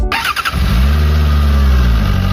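An inline-four, 16-valve motorcycle engine cranks briefly, then catches and settles into a loud, steady close-up idle, with no voices.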